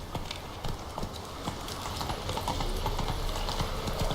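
Roach, a horse in The Witcher 3, gallops with rhythmic hoofbeats that start light and grow steadier and louder, over a soft ambient wash of wind and outdoor game sound.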